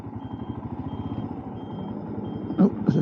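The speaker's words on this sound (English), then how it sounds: "tractor coming up behind me" Tractor approaching from behind on a rural road, a steady pulsing diesel engine chug that grows gradually louder, with a couple of brief knocks or clatters near the end.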